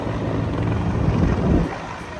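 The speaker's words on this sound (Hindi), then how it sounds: "आप देखें इसकी निगरानी कितनी की जा रही है पुलिस की तरफ से हेलीकॉप्टर्स के ज़रिए" A police surveillance helicopter flies over Times Square at dusk, a continuous low rotor rumble that swells slightly toward the middle under a wash of city noise.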